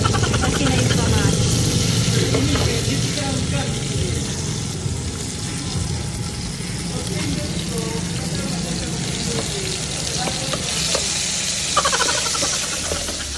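Tomatoes being stirred and sautéed in a pan for sinigang na lapu-lapu, a constant loud sizzle with a low rumbling hum underneath and occasional scraping, continuous and close throughout.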